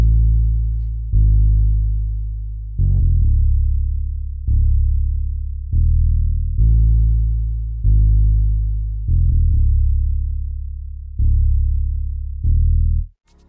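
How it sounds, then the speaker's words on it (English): A deep, smooth synthesized fretless bass from the ZENOLOGY AX patch plays a slow line of sustained low notes with soft slides between them, loud and steady with no voices. "it's the AX fretless bass from ZENOLOGY"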